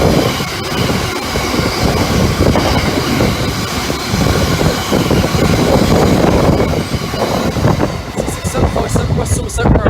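A freight train diverted along a British mainline route rumbles loudly past at close range, with continuous heavy rolling, rattling wagons and occasional wheel squeal, while people talk over it.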